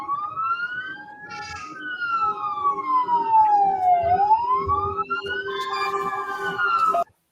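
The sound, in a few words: police siren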